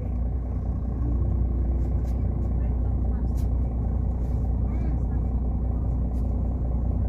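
A Chavante coach bus on the Vila Rica to Goiânia route rolls through a bus station with a steady, low engine rumble, heard close and continuous while someone talks over it.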